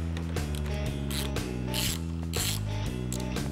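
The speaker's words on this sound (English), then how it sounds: "Next, remove the 6 T30 bolts underneath the radiator." A ratchet backs out T30 bolts beneath a car radiator during an APR supercharger pulley upgrade on a 3.0 TFSI engine, producing a close, loud, steady series of rhythmic clicking strokes.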